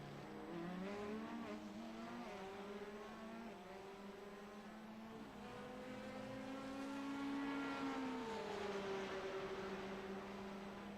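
A Porsche GT3 race car's engine roars from onboard at a WeatherTech race, its revs climbing steadily through the gears with a brief dip before pulling hard again toward a final left-hand bend, loud and continuous.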